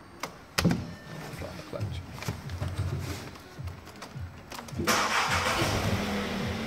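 A car starts with a newly cut key: a few faint clicks and handling noises, then the engine cranks and catches near the end, settling into a steady close idle.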